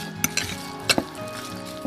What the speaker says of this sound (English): And I give this a good mix.